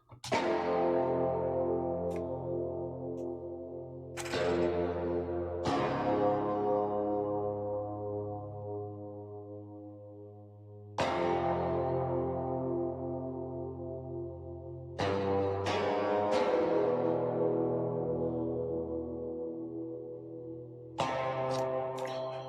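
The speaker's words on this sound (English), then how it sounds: "altogether the guitar sounds like this" Distorted virtual metal guitar from the Odin 2 synth strums sustained power chords with added notes, several heavy struck chords ringing out and fading, loud and alone in a dark post-black-metal style.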